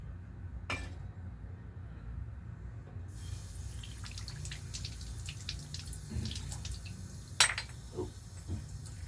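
Water runs from a sink tap into bottles, a faint steady trickle with sparse drips, a few glassy clinks and a sharp knock near the end.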